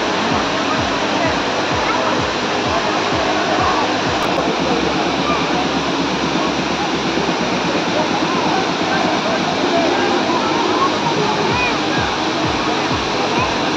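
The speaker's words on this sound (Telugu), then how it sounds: "ఇదేననమాట జారీ వాటర్ ఫాల్స్." Jhari waterfalls in Chikmagalur pour with a loud, constant roar of falling water, a close, unbroken wash of rushing sound lasting the whole stretch.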